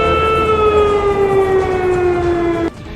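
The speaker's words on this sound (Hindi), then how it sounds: "धमाका होते ही खतरे का सायरन बजाकर लोगों को अलर्ट कर दिया गया" A steady, loud air-raid warning siren sounding after an explosion holds one tone that drifts slightly downward, then cuts off abruptly near the end.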